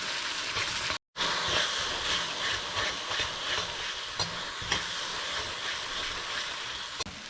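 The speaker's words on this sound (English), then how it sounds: "we're gonna cook this for about 2 minutes, guys, as usual. And you want to stir to prevent it from burning" Curry paste for hassar curry fries in a pan with a steady, close sizzle, punctuated by soft scrapes and taps of a stirring spoon, uninterrupted except for one brief dropout near the start.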